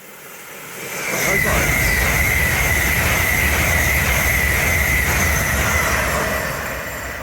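A passenger train rushes past close by at Hatfield on the East Coast Main Line, a steady loud rumble of wheels on rails with a high metallic whine running through it, fading slightly at the end.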